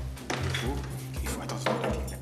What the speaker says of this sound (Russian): Режис и Селин должны сейчас перенести тяжелую кастрюлю с помощью палок.